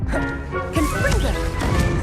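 Confringo blasting spell cast in the Hogwarts Legacy video game: a loud crashing burst with dense rumble and tonal game effects over a continuous music-like bed, running steadily through the short stretch.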